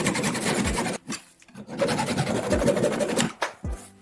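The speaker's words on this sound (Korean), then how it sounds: "플라스틱 병에서 나사산이 있는 목 부분을 잘라내세요." A blade saws the threaded neck off a plastic bottle in loud, close rasping strokes, grouped in bursts with short pauses between them.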